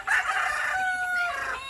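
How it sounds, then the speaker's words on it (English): A Red Turken rooster named Big Red crows once, close and loud, in a long drawn-out call that holds a steady pitch before tapering off at the end. "that was Big Red crowing"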